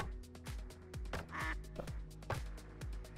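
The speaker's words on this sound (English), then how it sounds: "Oh, there's a duck in the background." Ducks in the video game Duckside quack repeatedly in a quick, uneven series of short calls, fairly faint and heard without talk.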